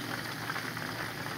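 Bass fillets fry in hot oil with a steady, dense sizzle and crackle, constant and fairly close, with no talk over it.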